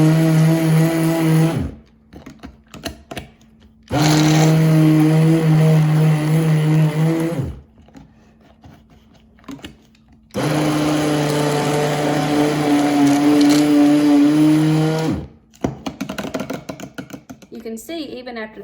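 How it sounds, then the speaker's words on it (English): An immersion blender purees peaches, whirring loudly in two long bursts separated by quiet pauses, its motor pitch steady with a slight strain as it churns. "you put them in an immersion blender a little bit at a time"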